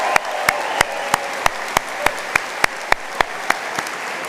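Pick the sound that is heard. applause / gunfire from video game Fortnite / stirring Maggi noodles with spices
applause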